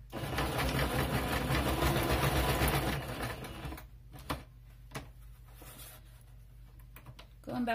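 Sewing machine stitching a zigzag over burlap: a close, rapid mechanical chatter runs steadily for about three seconds, then stops, leaving quiet with a few small handling clicks and taps.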